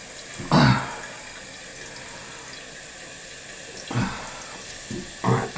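Water running into a toilet tank as it refills after a low cold water flow to the house was fixed, a steady hiss with a few louder gushing bursts near the start and end.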